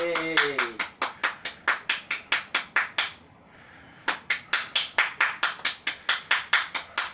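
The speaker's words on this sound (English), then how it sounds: "Thank you for that applause" A conference audience breaks into applause that lands as brisk, evenly spaced claps, loud and close, pausing briefly midway before resuming at the same steady rhythm, with a short cheering voice at the very start.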